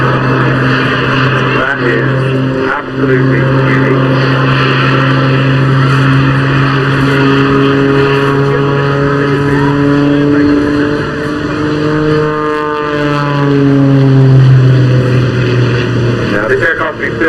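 A scratch-built Jet Pitts aerobatic aircraft passes at the English Riviera Airshow, its loud sustained whine and roar shifting in pitch as it goes by, with a commentator talking over it throughout.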